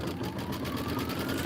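Sewing machine stitching a border during a quilting session, a steady dense whir throughout the brief moment, close and fairly loud.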